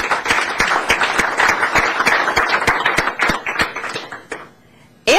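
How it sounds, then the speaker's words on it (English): A conservative breakfast club audience bursts into a round of applause, dense overlapping claps filling the room for about four seconds before fading to quiet, then a brief sharp noise at the very end. "So if we get a round of applause for that."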